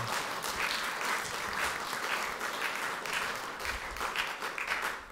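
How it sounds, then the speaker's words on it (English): A church congregation gives a steady round of applause for visiting ambassadors during a service, dense clapping filling the room evenly from start to finish with no talk over it. "give God a big round of applause for the ambassadors being here today"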